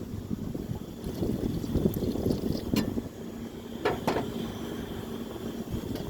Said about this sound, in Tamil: கொஞ்சம் தண்ணி சேர்த்துருக்காங்க.